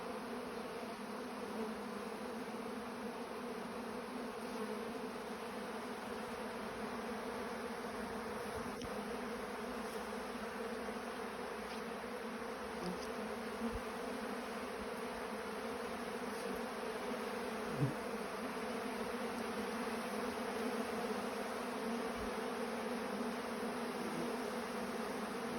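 Honey bees buzzing steadily around a backyard hive, a continuous close insect drone holding at an even level throughout with no talk.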